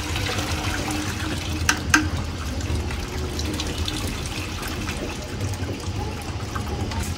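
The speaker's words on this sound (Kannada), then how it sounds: "ಇವಾಗ ತೆಗಿತಾರೆ ನೋಡಿ, ಬರುತ್ತೆ ಎಣ್ಣೆ." Coconut oil trickles from an oil press in a steady liquid dribble beneath constant machine rumble, with a couple of brief sharp knocks near the start.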